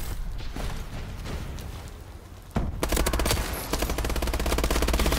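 Rapid gunfire in a Call of Duty capture-the-flag match: scattered mechanical clicks and shots give way to a dense, continuous burst of automatic fire in the second half, loud and close.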